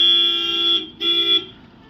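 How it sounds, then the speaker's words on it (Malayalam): A car horn honks on a road in Ladakh, two sustained blasts of about three-quarters of a second each with a brief gap between them, loud and near, with no talk. "ഈ പുള്ളി എന്തിനാ ഹോൺ അടിക്കുന്നത്?"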